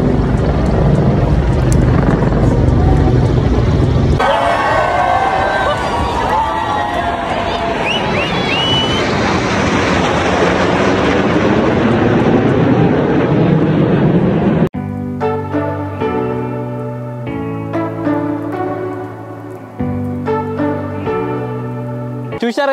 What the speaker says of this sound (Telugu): ఇప్పుడు మనకు పైనుంచి హెలికాప్టర్స్ ఇంకా జెట్స్ వెళ్తాయంట